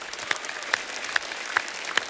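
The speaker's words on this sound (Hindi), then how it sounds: "जोरदार तालियां।" A studio audience on a television comedy show claps, with sharp, evenly spaced hand claps standing out above a soft background wash for about two seconds.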